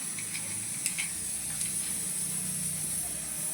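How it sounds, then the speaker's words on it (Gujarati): Steady sizzle of puris frying in hot oil, a constant bright hiss with a few faint clinks, no talking. "પછી પૂરીઓ તળી લઈશું"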